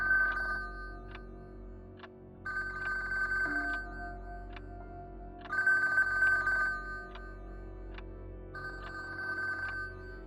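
A telephone rings down the line after a number is dialed, in an old radio drama: repeated ring bursts with short pauses, steady and fairly loud over a faint background hum, with no talking.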